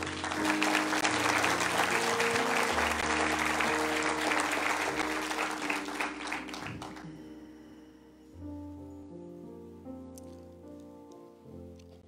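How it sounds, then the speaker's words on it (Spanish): A church congregation applauds during a sermon, a dense, loud burst of clapping that lasts several seconds, then thins and fades as sustained instrumental tones carry on alone. "¿Le puede dar un aplauso al Señor?"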